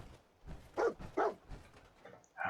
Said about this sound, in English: No, go away, doggy.